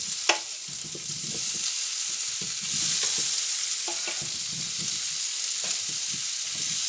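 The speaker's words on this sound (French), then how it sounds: "Donc, des pommes de terre sautées." Boiled potatoes sauté in a pan with a steady hissing sizzle, punctuated by scattered utensil scrapes and taps as they are stirred, close up and without speech.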